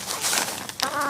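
Backyard chickens clucking and chattering close by over a mealworm treat, a short busy burst of bird calls with a louder squawk near the end.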